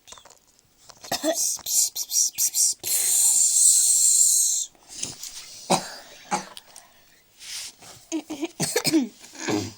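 Coughing bursts in a Littlest Pet Shop beauty-salon roleplay, short harsh hacks scattered among voices, with a long hissing stretch in the middle; people talk around them.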